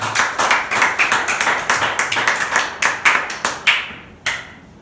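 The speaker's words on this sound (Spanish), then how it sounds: "Denle un aplauso a Jesucristo." An audience claps in a church service after a call to applaud, steady overlapping handclaps that trail off near the end, with a final isolated burst.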